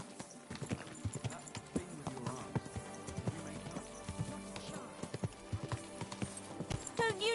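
Hooves clip-clop continuously at a brisk, close pace as a horse moves through Kuttenberg in Kingdom Come Deliverance 2, with a brief whinny near the end and faint voices in the background.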